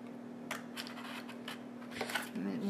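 Scissors snip through paper while trimming a DIY planner page, a few short crisp cuts in quick succession over a steady background hum, close and fairly quiet.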